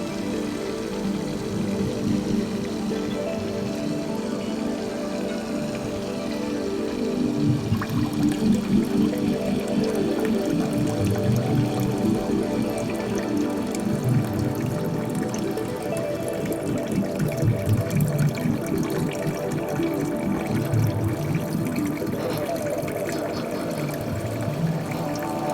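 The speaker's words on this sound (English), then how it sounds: "here you can see that the water is being sucked in from the aquarium" A SOBO WP-606H hang-on aquarium filter runs continuously, its water splashing and gurgling steadily back into the tank with a constant churning flow and slight swells in loudness, no talk.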